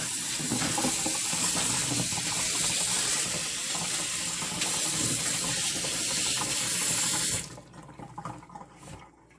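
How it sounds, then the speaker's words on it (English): Fresh asparagus rinsed under a cold running kitchen tap, a loud steady gush of water splashing for about seven seconds before the flow stops and quieter drips and handling noises follow. "washing it in cold water to preserve its crispiness and freshness of our asparagus"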